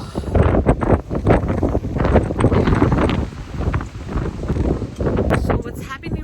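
Strong gusting wind roars across the microphone in a Saskatoon blizzard, loud and buffeting in uneven surges, with a person talking through it.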